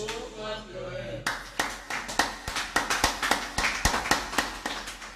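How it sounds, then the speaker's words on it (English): A church congregation claps its hands in a steady, rhythmic beat, sharp and near, with the clapping starting after a moment of singing and continuing for several seconds. "Oh, clap your hands."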